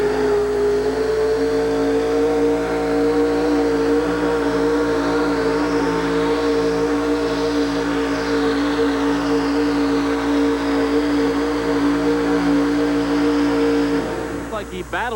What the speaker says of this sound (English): Bobby just nailed the throttle off the starting line.